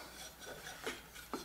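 Wooden board slid into place inside a recliner frame against a bolt head, giving soft raspy scraping rubs with two brief knocks near the end, close and quiet.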